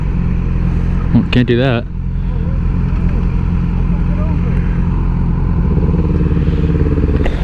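Yamaha R6 sport motorcycle accelerating hard in first gear, a loud continuous engine drone close to the rider, with a brief voice and wind noise over it.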